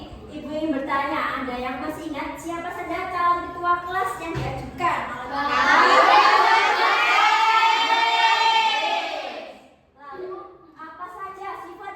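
A class of sixth-grade children in a classroom lesson shout together in a loud, sustained chorus lasting several seconds, after an adult voice speaks and before the talk resumes.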